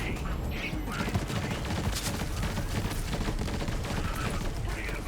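Continuous gunfire in Borderlands 3 aimed at enemies' feet, a dense chaotic barrage of overlapping shots and mechanical clatter, loud and sustained throughout with no pauses.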